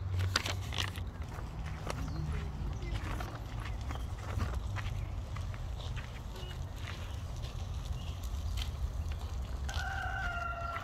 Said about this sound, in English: Wow, look at the rooster.